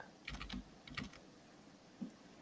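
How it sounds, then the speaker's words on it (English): Someone types on a computer keyboard at a moderate distance, a few short bursts of soft clicking keystrokes with brief pauses, faint against a quiet room with no talking. "hear somebody typing"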